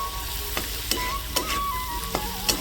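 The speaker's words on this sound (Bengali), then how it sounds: "এরপর হলুদ আর লবণ দিয়ে ভালো করে আমি নাড়িয়ে ভাজবো।" Vegetables with turmeric and salt sizzle in a pan while a spoon stirs them, the frying hiss steady and close, broken by about six sharp scraping strokes at regular intervals.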